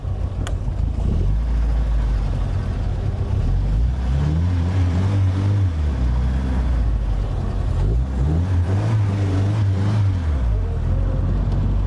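A 1960 Triumph TR3A's engine is driven through all its gears, a low, steady drone that rises and falls twice in long sweeps as it pulls through each gear change.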